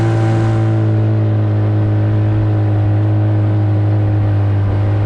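A Carolina Skiff's outboard motor runs flat out at full throttle, a loud, steady engine drone with strong low hum and no breaks, close and alone.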